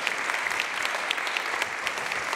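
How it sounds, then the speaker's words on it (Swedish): An audience applauds at a Swedish conference event, Framtidsdagarna 2024, as a guest is welcomed onto the stage. The clapping is dense, steady and fairly loud from many hands, with no voices over it. "Och han fick en applåd där."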